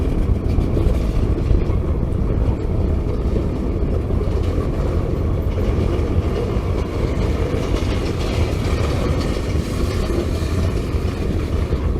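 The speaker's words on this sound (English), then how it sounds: "I enjoy all the sounds that these trains make" A Norfolk Southern or CSX local freight train rumbles past close by, a loud continuous low roar with faint metallic rattling and clatter throughout.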